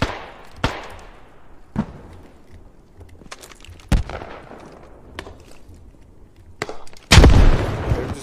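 Bombardment explosions in the video game Squad: a series of sharp booms at irregular intervals, several fairly distant with trailing rumble, ending in a much louder, closer blast.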